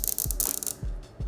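Ratchet clicks while a part is tightened on a Rascal GT4 race car, with quick bursts of close mechanical ticking and a few dull knocks between strokes.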